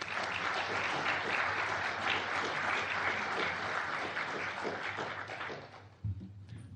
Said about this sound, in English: So everyone, please give a big round of applause for James Bilder.